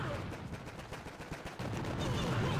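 Rapid rattling gunfire and booming cannon shots overlap in a dense, continuous barrage during a Boom Beach base attack, loud throughout.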